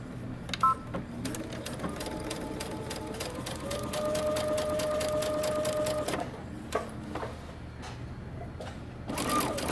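A domestic sewing machine runs steadily, stitching a folded fabric sleeve tab loop for a coat with a quarter-inch seam, its rapid needle clatter pausing briefly near the end before starting again, close and clear with no talk.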